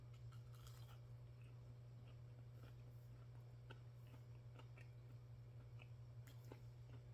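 Chewing on homemade gluten-free chicken nuggets, with soft irregular crunchy bites and mouth sounds, faint and close over a steady low electrical hum, with no talking.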